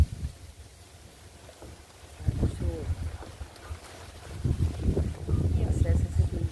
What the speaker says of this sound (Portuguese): olha que só o vento